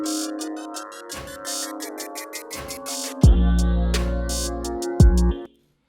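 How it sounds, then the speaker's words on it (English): Riser transition in an FL Studio trap beat, a sustained bright synth tone climbing under ticking hi-hats, broken by deep 808 bass drops near the end before cutting abruptly to silence. "and then I just had to add this riser here or transition"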